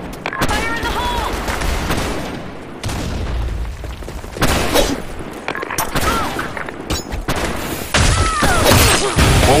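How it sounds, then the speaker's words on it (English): In a first-person shooter video game, a grenade explosion and rapid gunfire go off in a sharp, loud, chaotic sequence of booms and bursts, close and dense, with a voice calling out briefly over the action. "Fire in the hole!"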